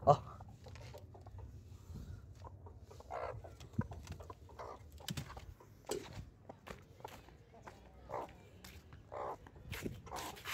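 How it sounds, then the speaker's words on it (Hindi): A rooster and a hen are let loose and cluck in short, scattered bursts, close by and fairly quiet, amid footsteps and rustling. People talk now and then between the calls. "तो वो मुर्गा खुला हुआ है, यहाँ मुर्गी को खोल ही देते हैं"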